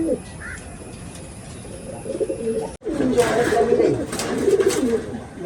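A male pigeon coos inside the Bismi pigeon loft at Chiramangalam, with repeated low rolling coos over loft background noise, an abrupt break midway, and a person speaking nearby.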